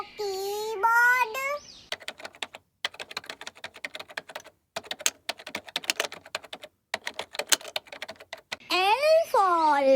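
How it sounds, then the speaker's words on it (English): Rapid clicking of computer keyboard keys, typed in bursts with short pauses, set between sung or voiced phrases from a children's alphabet phonics song at the start and end. "K for keyboard"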